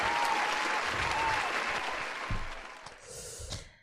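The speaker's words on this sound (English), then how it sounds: "Round of applause for Bucky." A crowd gives a round of applause at a live show, the clapping loud and dense at first and then thinning and tapering off toward the end.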